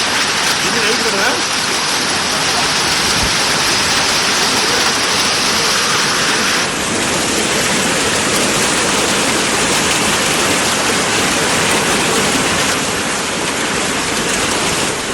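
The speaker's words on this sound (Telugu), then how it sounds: "బెంగళూరులో భారీ వర్షం పడుతుంది." Heavy rain in Bengaluru comes down as a loud, continuous wash of water that stays dense and even throughout, with a voice speaking faintly beneath it.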